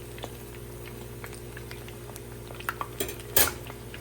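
A metal strainer clinks and scrapes in a pan of oil while fried Chicken 65 is lifted out. Faint bubbling runs underneath, and a louder metallic clatter comes near the end.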